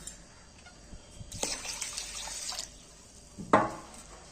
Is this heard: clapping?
no